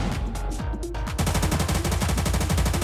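Rapid, loud bursts of realistic automatic gunfire from a modded GTA San Andreas game, a few scattered shots giving way to a dense, steady machine-gun rattle.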